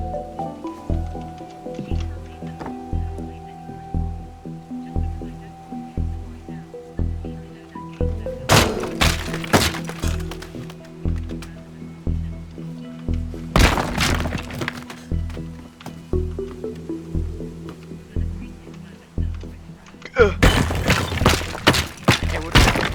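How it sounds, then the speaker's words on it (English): Upstairs of a building being torn apart in the voxel demolition game Teardown: three loud crashing, shattering bursts of collapsing debris over a steady low rhythmic thumping background. "Oh boy, I'll destroy the whole upstairs area."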